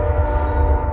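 A passing train rumbles low and steady in the distance, with a tonal drone, during a single brief moment.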